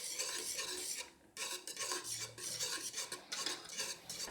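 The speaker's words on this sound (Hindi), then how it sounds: "बटर ऐड करने के बाद मैंने 3 मिनट मज़ीद इसको इसी तरह विस्क करते हुए पकाया है।" Chocolate pudding being whisked in a pan after butter is added, a rapid, continuous scraping and clinking of the whisk against the metal with brief pauses, close and unaccompanied by talk.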